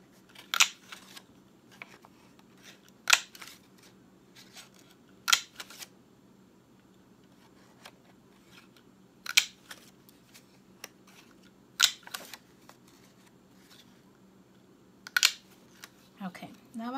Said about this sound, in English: I'm just gonna cut out 6 little circles.